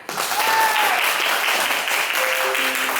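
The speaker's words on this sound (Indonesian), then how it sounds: "Nah, tepuk tangan semuanya." A school class in an Islamic ethics lesson breaks into a short round of applause, with many hands clapping together close by and a brief tonal sound heard through it.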